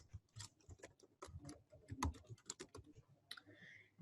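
Rapid clicking of computer keys as an address is typed in, a run of light, irregular taps close by with no voices over them.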